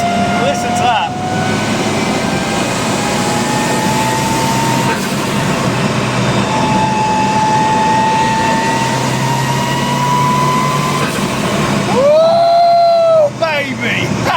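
A Mitsubishi Evo 2 with a swapped-in Evo 7 engine, driven hard, holds a loud, sustained engine note that climbs slowly through the revs, then shifts sharply near the end, with voices at times over it.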